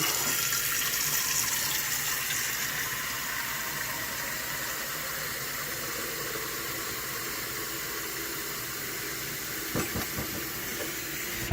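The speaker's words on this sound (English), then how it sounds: "But I just filled a little pot." A steady stream of tap water pours and splashes into a small pot, a continuous rushing hiss that runs throughout, with a brief clunk near the end.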